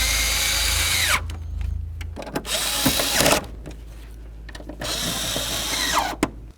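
A power drill drives screws into a blower motor under the dash of a 1988-2000 Chevy C/K1500 pickup, in three close, loud whirring bursts separated by short quiet pauses.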